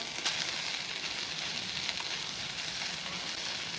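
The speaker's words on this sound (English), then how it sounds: "So I'm just going to carry on frying this for a second or two, just to try and get that skin brown all over." Chicken pieces frying skin-side in a hot wok, giving a dense, even sizzle that holds steady and fairly loud from start to finish with no talking.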